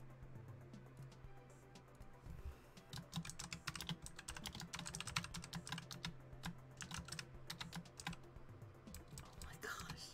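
Someone types quickly on a computer keyboard, giving dense, uneven clatters of keystrokes close and fairly faint, with no voices over a low steady hum.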